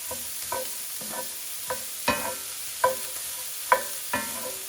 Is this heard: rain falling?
no